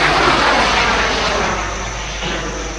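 A loud, rushing whoosh with a broad roaring hiss that slowly fades, as a large bamboo rocket launches outdoors at the Bun Bang Fai rocket festival in Chiang Mai.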